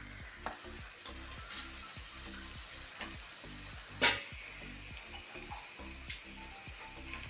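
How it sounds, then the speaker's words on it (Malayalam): Chopped spinach with turmeric stirred in a frying pan, steady faint sizzling under a rhythmic series of scraping strokes, with a few louder clinks of the spoon against the pan. "അതിലേക്ക് അല്പം മഞ്ഞൾപ്പൊടി കൂടെ ഇട്ട് ഇളക്കിയിട്ട് അത് അരിഞ്ഞ് വെച്ചേക്കുന്ന ചീര അതിലേക്ക് ഇട്ട് കൊടുക്കാം"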